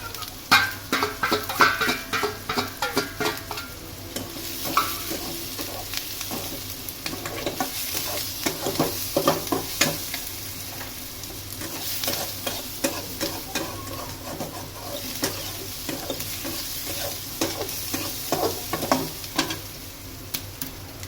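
Chili and turmeric fry with leftover rice in a pan, a constant sizzle under repeated rhythmic scraping and tapping stir strokes, with no voices.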